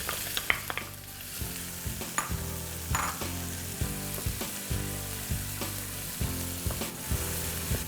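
Chopped onion fries in a pan with a steady, close crackling sizzle, broken by a few soft knocks and scrapes from stirring, with no voices over it.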